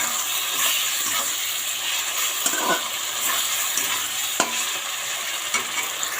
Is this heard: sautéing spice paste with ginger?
yes